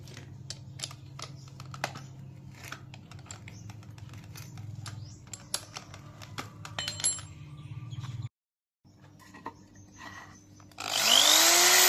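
A power drill fitted with a homemade bit spins up loud and close at the very end with a rising whine, after a stretch of light taps and clicks.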